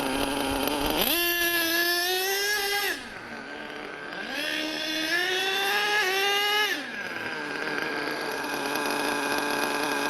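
A small glow-fuel model engine running, the needle valve being tuned between throttle bursts: two rising high-pitched revs around 1–3 s and 4–7 s, each settling back to a steady idle whine. It is fairly close and heard alone.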